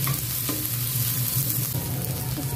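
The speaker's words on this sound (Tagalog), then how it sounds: "maggisa tayo ng onion guys bawang natin guys onion muna" Onion sautés in a pan, a loud, close, continuous sizzle with a low hum running underneath and no talking.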